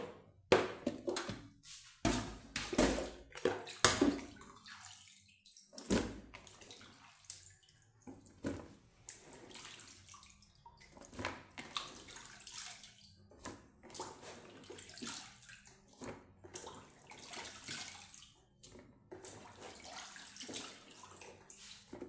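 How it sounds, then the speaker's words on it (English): Sliced cassava rinsed in water in a container, irregular splashes, sloshing and drips in quiet bursts over a long stretch, close and fairly faint, no talking. "The next step now is to rinse it into this container"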